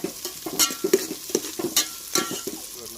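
Chopped onion with chillies and cloves being stirred in a frying pan, repeated scraping strokes of a spatula over a light sizzle, close and clear, no voices.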